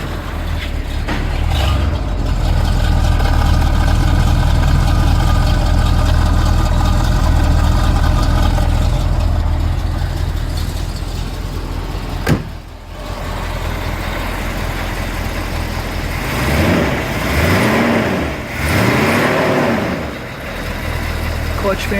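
A stone-cold car engine runs at a steady, loud idle with a low rumbling drone. A sharp click breaks in midway, and later the pitch rises and falls in sweeps as the engine is revved.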